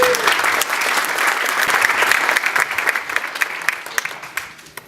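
Guests at a political fundraiser give a big round of applause, loud and close, many hands clapping densely before thinning into scattered claps at the end.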